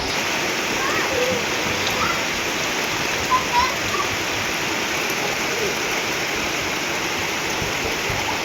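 Steady rain falling in Mahachai, a dense, even hiss of drops pattering on surfaces throughout, fairly loud and constant with a couple of faint brief knocks, no clear talking over it.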